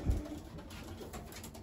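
Racing pigeons cooing softly and continuously in a loft, a low steady murmur of several birds close by, with a slightly louder coo at the start and no voices.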